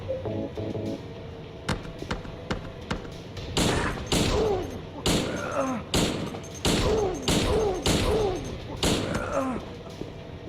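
Gunshots in Silent Hill 2 ring out as a series of loud, close, evenly spaced blasts, roughly a dozen in succession, each with a short echoing tail over a low ambient drone.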